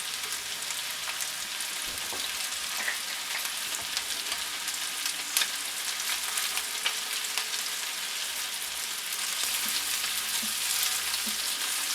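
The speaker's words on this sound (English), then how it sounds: "To fry it in a pan and brown on all sides" Swedish meatballs browning in a pan, a continuous dense crackling sizzle that holds steady and close throughout, with faint scattered pops and no talking.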